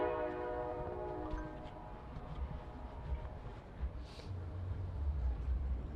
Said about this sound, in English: can you guys hear that train?